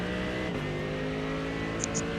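Race car engines roar steadily and loudly throughout in a racing video game, a dense sustained drone with layered harmonic whine and no break.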